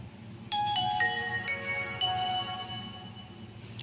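A bright electronic startup melody of clear tonal chimes plays from a Nokia 5130 XpressMusic phone, several stepped notes over a low background hum.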